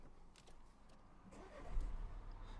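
A Renault Megane 2020 with the 1.5-litre K9K diesel engine starts up, a faint low rumble that swells into a brief louder burst as it catches, heard from nearby in otherwise quiet surroundings.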